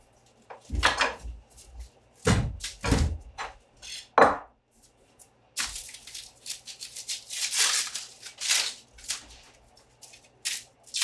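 A knife chops onions on a board for French onion soup in sharp, uneven knocks and scrapes. The cuts come in spaced clusters and then a busier run of strokes, close up, with no talking.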